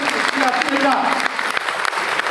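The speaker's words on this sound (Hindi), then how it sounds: "बहुत बढ़िया, जोरदार ताली।" Loud, continuous audience applause at an RCM achievers' stage event in Chandauli, a dense wash of clapping filling the whole moment.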